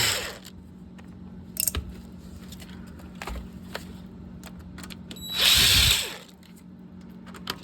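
A power drill runs in one loud whir of about a second, removing screws from the touch screen of a 2018–2019 Subaru Outback, with quieter clicks and tool handling before it.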